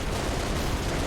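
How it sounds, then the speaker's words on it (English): Gunfire from the Millennium Falcon's mounted gun in a Star Wars video game, a dense, continuous burst of blasting that fills the whole short moment, loud and close with no speech. "this is a very special Falcon because it has a gun that you can fire"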